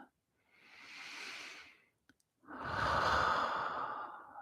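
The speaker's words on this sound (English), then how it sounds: "Take another slow, deep, clearing breath." A slow, deep clearing breath during a meditative puja session: a soft inhale rising and fading, a short click, then a fuller, louder breath out, close and unaccompanied by speech.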